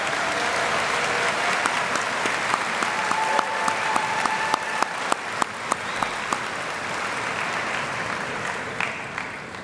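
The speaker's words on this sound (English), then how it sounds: "Graduates, join me in a round of applause for those who have gathered to celebrate your accomplishments." Broad, sustained applause from a large crowd at an undergraduate spring commencement, a steady wash of clapping with a few sharper individual claps standing out near the end, no voices over it.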